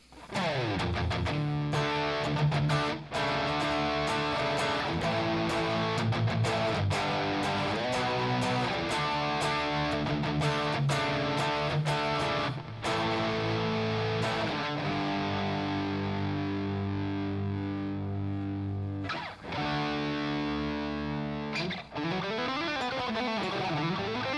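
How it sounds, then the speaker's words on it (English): Heavily distorted electric guitar playing chugging riffs and sustained chords, thick and saturated, loud and continuous with brief pauses. "let's go to the purple setting on there, which you can maybe hear it kind of kicking in there. The high gain setting."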